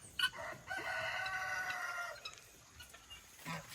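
A rooster crows loudly with a long, strained call on a farm animal sanctuary, followed by a few short clucks and scratchy rustling from nearby chickens.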